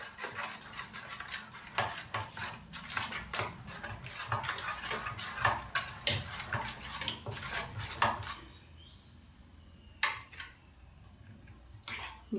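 A spoon stirring water into a mixture in a metal bowl, with rapid, repeated clinks and scrapes against the sides, close and fairly loud, then slowing to a few scattered taps near the end.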